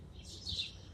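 Birds chirp briefly at a nest in an urban city, a couple of soft, high tweets over faint low background hum.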